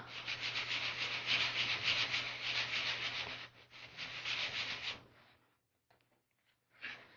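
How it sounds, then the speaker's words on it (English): Sanding a smooth wooden piece by hand in a circular motion to knock down small nubs and bumps: a steady, close, scratchy rubbing that pauses briefly, then fades out, with one short final stroke. "we're going to just sand in a circular motion to get rid of any little nubs and bumps."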